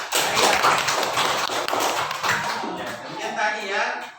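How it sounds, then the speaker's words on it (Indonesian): Children in a school classroom clap briefly for a classmate, producing scattered, uneven light claps and taps at moderate loudness while voices talk over them. "tepuk tangan untuk Aira."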